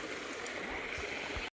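A small waterfall stream in a jungle pours in a steady, close rushing wash of water that continues evenly and then cuts off abruptly at the end.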